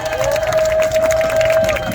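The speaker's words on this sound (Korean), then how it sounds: "최진영 군에게 다시 한번 큰 박수 부탁드립니다" A crowd at an outdoor political rally by Cheonggyecheon in Seoul applauds, dense, steady clapping and cheering throughout with a sustained ringing tone from the sound system.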